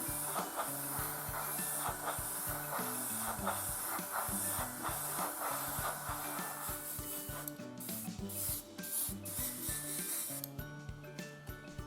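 Steady airbrush-style hiss of silver grey paint misted onto a 1/48 Academy MiG-21 model kit, continuous and close, with brief pauses and a slight change in tone toward the end.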